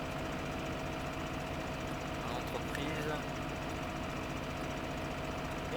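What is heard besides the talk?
tractor engine running in the video game Farming Simulator 15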